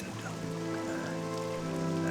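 Steady rain falls in the video game Morrowind, an even, close hiss of drops that runs unbroken for the whole stretch, with a low sustained tone humming underneath.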